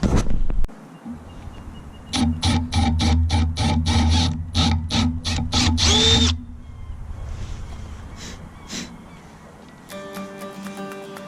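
A power drill boring screw holes, running in a long series of short repeated bursts with brief pauses between, loud and close, followed by quieter intermittent mechanical work and tool handling.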